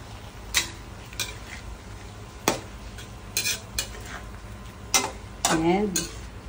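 A spoon scrapes and taps in a pan of sautéed alugbati leaves and string beans, making scattered clinks and knocks with a soft sizzle underneath, and a voice briefly speaks near the end.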